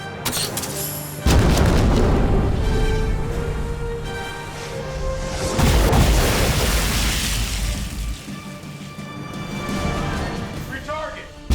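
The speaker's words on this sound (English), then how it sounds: "Fire the main gun!" A warship's main guns fire in a sci-fi naval battle scene from an alien-invasion movie, with two heavy, booming blasts a few seconds apart that leave a long rumbling roar and are mixed with voices.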